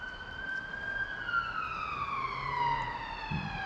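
A police car siren wails as the vehicle passes outside a country park in County Londonderry. Its steady tone is fairly loud and slowly falls in pitch as it moves away, over faint background road noise.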